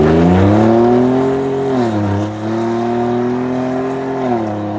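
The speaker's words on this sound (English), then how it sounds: "I think that this kit has a really nice sound from around 1500 RPM to about 3 grand." Ford F-150 with a 3.5L EcoBoost V6 and AWE 0FG side-exit cat-back exhaust accelerating in the low rev range, a loud close steady engine drone that rises, dips briefly, then climbs again.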